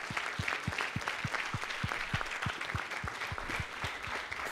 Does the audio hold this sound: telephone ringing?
no